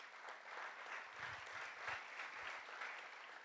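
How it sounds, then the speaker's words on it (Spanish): A church congregation at a Sunday service in Colombia claps together in a continuous, even round of applause, faint and distant, with a few low thumps beneath and no speech. "Damos un aplauso al Señor por ellos."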